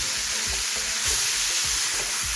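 Carrots sizzle and fry in a hot pan for carrot halwa, a steady bright hiss with soft stirring thumps low underneath, loud and continuous throughout.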